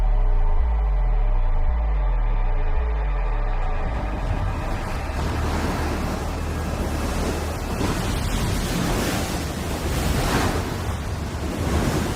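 Strong, heavy rushing water roars continuously at close range, a dense broadband surge that swells and churns throughout, preceded by a low rhythmic rumbling at the start, with no talk.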